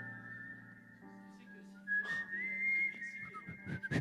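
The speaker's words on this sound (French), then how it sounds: "C'est toi qui siffles ou c'est la voix?" A person whistles a wavering melody of sustained, sliding tones. Soft rustles and brief shuffling noises come and go beneath it.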